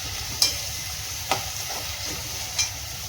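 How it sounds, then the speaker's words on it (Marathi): Onion, tomato and coriander masala sautéing in a pan, giving a soft continuous sizzle broken by three distinct spatula taps or scrapes at regular gaps, heard alone without speech. "चांगलं व्यवस्थित परतून घ्यायचं"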